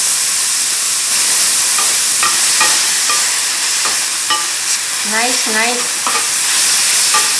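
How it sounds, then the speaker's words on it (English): Garlic, shredded kelp, soy sauce and rice syrup being stirred in a hot oiled pan, a steady close sizzle with repeated scraping and clacks of the utensil, and a brief spoken word. "I keep stirring until shiny"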